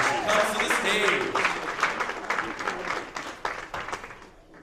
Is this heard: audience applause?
yes